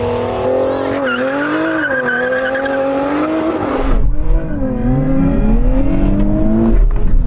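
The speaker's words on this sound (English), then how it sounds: "I am going to launch it with the launch control." Sports car launched with launch control in a drag race, engine tones climbing and shifting with rising tire squeal, then a loud rough rush of wind and road noise as it accelerates away, close and constant.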